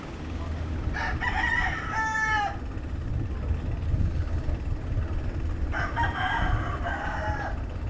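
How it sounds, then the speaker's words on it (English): Roosters raised for cockfighting in rural Bali near Ubud crow twice, a few seconds apart, at moderate distance over steady road and outdoor background noise. "A lot of roosters, which are used mostly for cockfighting."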